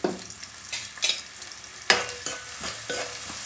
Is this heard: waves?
no